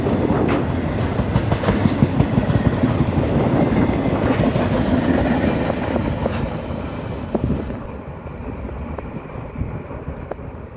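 Qube Logistics freight train with a yellow dual-cab EMD SD70ACE locomotive trailing passes close by, a loud steady rumble and clatter of wagons that thins after about eight seconds as the short consist draws away.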